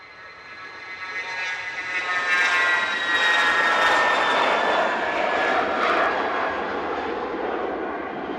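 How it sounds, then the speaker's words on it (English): A Cessna Citation Latitude business jet takes off at Manchester Airport with a rising, high-pitched whine and a broad roar that builds, holds loud for several seconds, then slowly recedes. "This one is a Cessna Citation Latitude."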